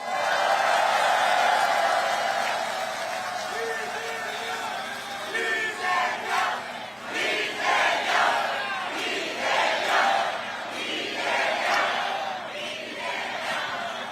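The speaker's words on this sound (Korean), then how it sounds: "옆에 계신 동지들에게 박수 한번 보내주세요." Outdoor political election rally crowd near Gyeyang Station in Incheon, applauding and cheering in swelling bursts, with shouts rising over continuous crowd noise.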